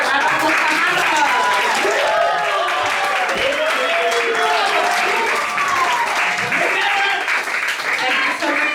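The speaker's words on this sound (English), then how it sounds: "Everyone, round of applause for Hannah" An audience at a stage magic show applauds for a volunteer, a steady wash of clapping with cheers and voices mixed in, continuing at even strength.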